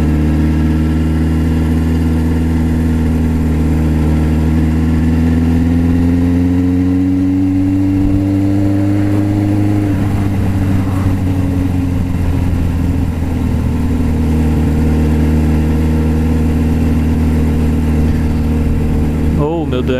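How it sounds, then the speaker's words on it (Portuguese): A Suzuki GSX750F motorcycle engine runs loud and steady for the whole stretch, its strong harmonic drone shifting pitch midway as the revs change, with no pauses and the sound close to the microphone. "Não é escapamento que conversa alto. É o motor que berra mesmo."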